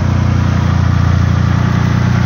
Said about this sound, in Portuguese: Agora motorzão C20XZ aí, ó.